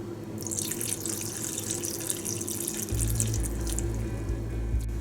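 Water runs steadily from a tap into a mixture of almonds, pistachios, cashews and spices before grinding into a paste, a close, continuous splashing stream that grows heavier partway through, with no talking.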